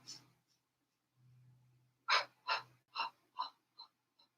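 Sharp, rhythmic breaths during a Pilates endurance exercise: a soft hum, then five quick forceful exhales in a steady pumping pattern, close and clear with no talking.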